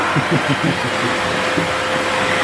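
A vacuum cleaner runs in a home after folding laundry, a loud continuous motor whine and airflow roar holding steady for the whole stretch.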